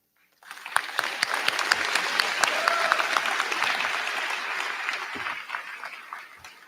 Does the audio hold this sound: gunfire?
no